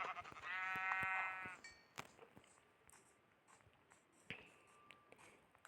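A sheep in the video game Minecraft lets out one clear wavering bleat up close, followed by a shorter second bleat and scattered light game clicks and steps.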